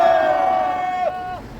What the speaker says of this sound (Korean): 격한 함성 3초간 힘차게 외치겠습니다